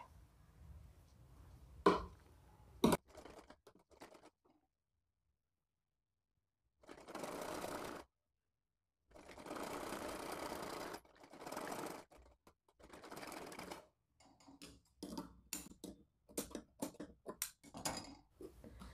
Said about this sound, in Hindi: अब यहाँ पर सिलाई लगाएंगे